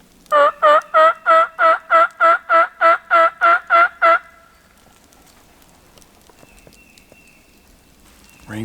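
Wild turkey calls outdoors on a rainy woodland trail: eleven evenly spaced, loud clucks in a quick series, then faint rain and quiet forest ambience with a soft thump at the end.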